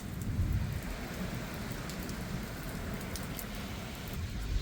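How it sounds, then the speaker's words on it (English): Heavy rain pours down during a thunderstorm over the English countryside in Dorset, a steady dense hiss of drops with low rumbling underneath, continuous and loud, heard from shelter with no voices. "The rain's really coming down there, so I think I'm going to be stuck under here"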